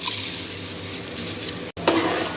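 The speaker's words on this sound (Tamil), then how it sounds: "இப்போ நான் தண்ணியோட அரிசியோடு போட போகிறேன்." Water and rice go into a pot for bagara rice, a soft steady wash of pouring and sizzling that ends in a brief louder splash and stir.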